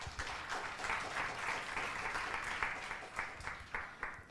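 An indoor audience at a chemistry symposium gives steady applause, a soft, even patter of many hands clapping at a distance, fading slightly toward the end.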